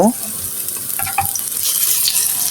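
Jute leaf pakoras fry in hot oil in a pan, giving a steady close sizzle while they are flipped, with a few soft scrapes and clicks of the turning utensil over the hiss.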